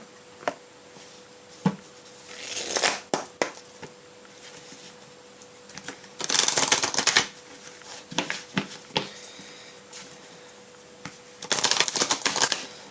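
Deck of oracle cards being shuffled by hand in several bursts of quick riffling clicks and slaps, close and fairly loud, separated by short quiet gaps, with no talking.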